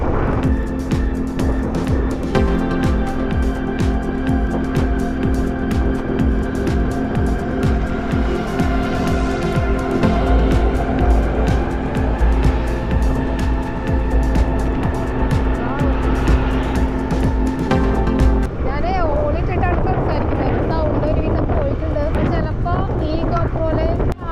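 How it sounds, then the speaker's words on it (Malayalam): Strong wind buffets the microphone throughout a morning ride in Kochi near Edappally. The roar is loud and continuous, with rushing gusts that ease and thin out toward the end. "കാറ്റിൻ്റെ സൗണ്ട് മാത്രമേ കേൾക്കുള്ളൂ"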